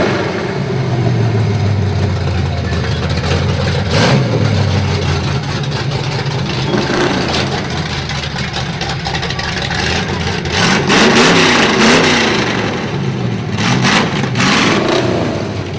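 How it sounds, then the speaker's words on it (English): A hopped-up car engine in a 2012 Cotton Gin parade, rough and barely able to idle, rumbles loudly and close with a lumpy, uneven idle broken by repeated throttle blips and revs. "That engine's been hopped up. It can hardly run it an idle."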